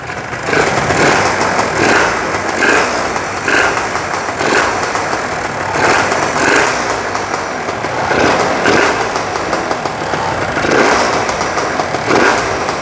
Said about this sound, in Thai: เสียงท่อมันพอดีนะท่อนี่มันทำใบใหญ่มากเลยนะ